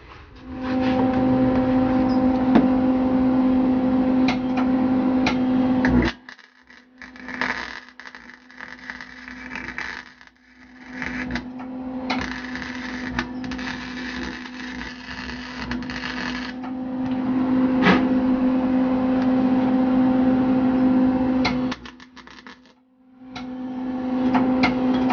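Welding on the door of a 1969 Volkswagen Beetle gives a steady, buzzy crackle over a constant low hum. It comes in long close bursts broken by a few short pauses, with no talking.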